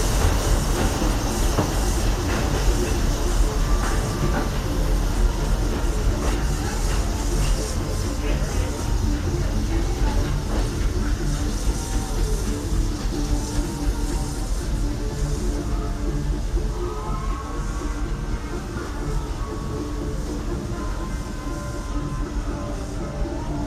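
Walt Disney World Railroad train rolling toward Fantasyland Station, a steady rumble with clattering wheels and a faint hiss heard from on board, while a station announcement plays over it.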